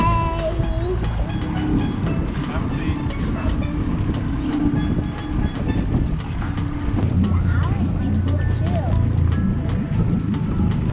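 A dinghy's outboard motor drones as the small boat pulls away on the water, a steady mid-distance engine hum under people talking and calling out goodbyes.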